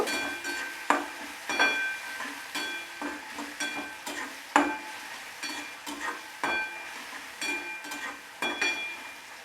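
Chopped onion fries over medium heat in a pan for a cauliflower curry. A spoon scrapes and clinks against the pan in uneven strokes over a soft sizzle, close and fairly loud.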